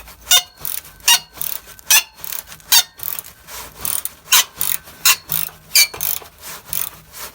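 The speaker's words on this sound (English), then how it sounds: "Keep ratcheting it out, and you'll be good." Ratchet wrench loosening exhaust bolts on an Acura RSX during a Borla cat-back exhaust install, a close, crisp run of rapid clicking strokes in an even back-and-forth rhythm, alone with no voices.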